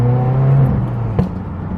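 A Subaru WRX with a cheap $300 aftermarket exhaust drones in a low, steady tone before easing off, followed by a single short, sharp pop.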